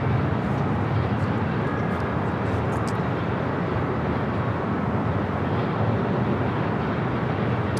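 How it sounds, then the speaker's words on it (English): Lufthansa Boeing 747 taking off at LAX, a dense, steady jet roar filling the scene at constant loudness, broad and rumbling with no clear change over the stretch. "Lufthansa Queen, wasting no time, heading up here for north side at takeoff."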